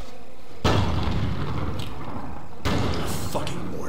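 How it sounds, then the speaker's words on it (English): Mortar shells exploding in Sniper: Ghost Warrior 2, two loud close booms a couple of seconds apart, each followed by a rumbling decay. "Fucking mortars. These things are getting too accurate."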